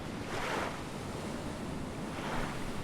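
Ocean waves in the survival video game Stranded Deep roll and wash steadily, with two swelling surges of surf over a constant windy rush and no voices.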